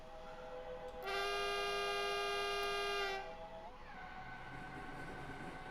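A train pulls out of Starnberg station, platform 4, on the Munich to Garmisch-Partenkirchen line. A loud sustained horn blast lasts about two seconds over steady rolling rumble, then a rising electric motor whine as it gets under way.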